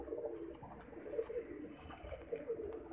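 A pigeon coos softly in low, repeated throaty phrases that carry on steadily, fairly quiet and not far off, with no voices and a little background noise.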